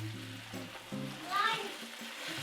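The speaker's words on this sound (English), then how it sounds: "So while the meat is browning" Ground meat browning in a pan with salt and pepper gives a soft, steady sizzle with light stirring and scraping, close by and fairly quiet.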